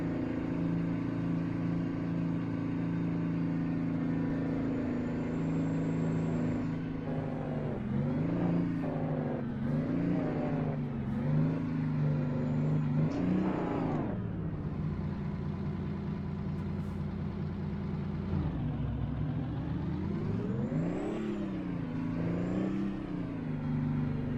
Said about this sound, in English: I would think you'd want to open the governor up and rev it more.